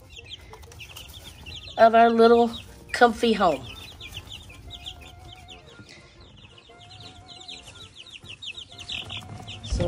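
Hens clucking in a backyard coop, with a loud burst of calls near the start, then softer murmurs and scattered clucks mixed with background birdsong, partly under a voice.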